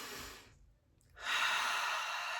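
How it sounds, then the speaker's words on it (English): Slow, deep breathing used as a calming technique: a long airy breath out, a brief near-silent pause, then a fuller, louder breath that carries on steadily, close to the listener. "Just breathing in"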